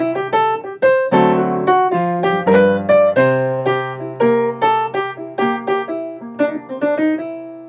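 Solo saxophone plays a jazzy ii-V-I line that resolves onto a dominant seventh instead of a major seventh, a bluesy phrase of clear, close, loud detached notes that runs for several seconds with no talk.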